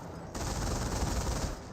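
A dense burst of gunfire rattles through a Company of Heroes World War II battle, a continuous loud volley of rapid shots lasting over a second.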